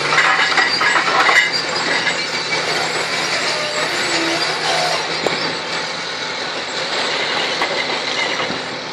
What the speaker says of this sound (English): This is a 748G3 skidder, log skidder.